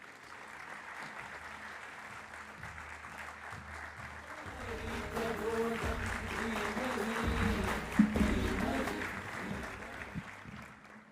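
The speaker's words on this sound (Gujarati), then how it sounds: "વધારે જોરદાર તાળીઓથી આપણે હર્ષભાઈને ઇન્વાઇટ કરીએ" Audience at a Thursday youth sabha applauds to welcome a speaker, the clapping starting modestly and swelling into fuller, steady applause through the middle before easing slightly, with faint murmur beneath.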